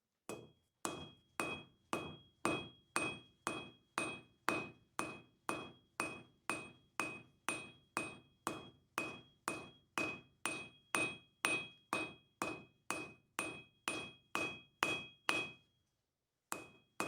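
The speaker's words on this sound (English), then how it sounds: "I have a 10mm round bar that I'm going to forge down like a flat spoon shape" A hammer forges a 10mm round copper bar in a long, steady series of sharp ringing blows, about two per second, close and clear, each with a brief metallic ring.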